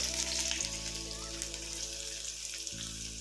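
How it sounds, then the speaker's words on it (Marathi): Chopped ginger sizzling in hot oil in a pan just used for frying paneer, a steady close crackle and hiss with a low background hum and no talk. "त्याच तेलामध्ये आपल्याला टाकायचं आहे थोडंसं अद्रक"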